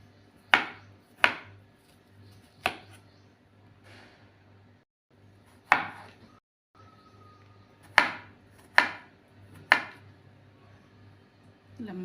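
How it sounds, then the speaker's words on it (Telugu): A knife chops wax apple into pieces on a cutting board, giving about eight crisp, close thuds at uneven intervals over a low steady hum. "ఇలా ముక్కలుగా కట్ చేసుకున్న ఈ యాపిల్ ముక్కలన్నీ దీనిలో వేసేసుకున్నాం"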